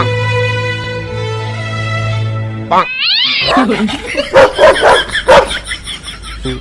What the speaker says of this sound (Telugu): షాప్ ముందర పడుకుని ఉన్న కుక్కను కాళ్ళతో తన్ని తరుముతుంటాడు.